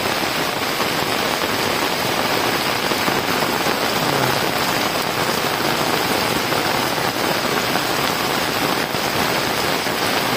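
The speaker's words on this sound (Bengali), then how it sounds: "তবে বৃষ্টি, প্রচন্ড বৃষ্টি হচ্ছে।" Heavy rain falls in a dense, unbroken roar, loud and close, as if drumming on an umbrella overhead, continuous for the full stretch with no voices.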